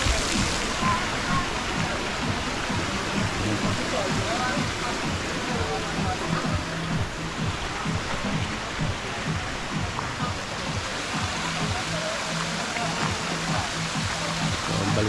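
Water rushes steadily at Kakawayan Falls resort in Real, Quezon, a broad continuous outdoor roar that stays level throughout, with voices talking faintly beneath it.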